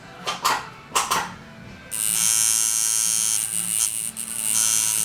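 A tattoo machine run at higher voltage so it hits harder: a few brief knocks, then a loud, steady, close electric buzz that holds for the rest of the clip.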